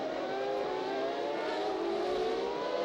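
Formula One cars race at the 1999 Grand Prix, giving a sustained, high-pitched engine whine that stays steady and moderately distant for the whole stretch, with no voices.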